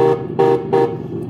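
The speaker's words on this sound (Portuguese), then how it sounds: "Então aqui a gente tem buzina." Three short, loud Scania truck horn blasts in quick, evenly spaced succession, each a brassy honk, heard close up.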